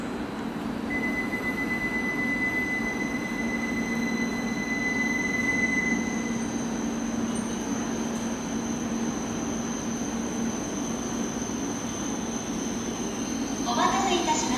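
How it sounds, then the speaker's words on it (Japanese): A Joetsu/Hokuriku Shinkansen train rolls into Takasaki Station with a steady low rumble and a thin high squeal from the wheels, heard at a moderate distance, with faint chatter near the end. "東京行きが到着です。"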